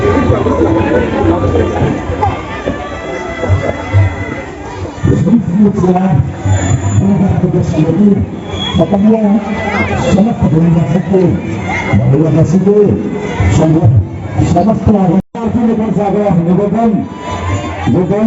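A large crowd of devotees, mostly women, gathers at a village Durga Mahanavami puja, a dense continuous hubbub of many voices close by with steady loudness throughout.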